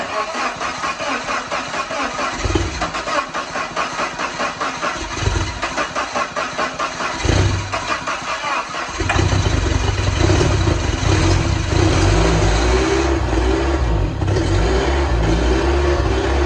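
An old forklift engine cranks, sputters and catches, then settles into a loud, rough, steady running rumble up close, with a brief voice or two.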